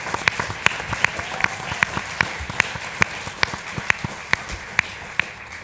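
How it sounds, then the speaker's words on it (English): A panel audience applauds a gentleman, steady overlapping hand claps with sharp individual slaps standing out, moderately loud and sustained throughout with no talking. "can we get a round of applause for this gentleman for his service and his courageous acts?"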